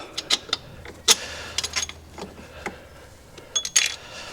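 Clicks, creaks and metallic taps from bolts being worked loose on a VW Golf mk2 engine mount, scattered sharp transients at close range with quiet gaps between them and no talk.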